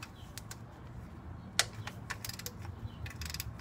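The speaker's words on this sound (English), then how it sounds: "So now I'm going to switch over to my 9/16 socket and start removing the bolt on the front." Ratchet wrench with a 9/16 socket works a starter bolt loose during removal of a 42RE transmission, a string of quick sharp metallic clicks in uneven bursts over a faint low background, no talking.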